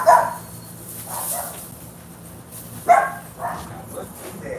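Dogs in a yard let out a few sharp barks at the start and again near the three-second mark, with quieter yips in between. A voice talks under the barking.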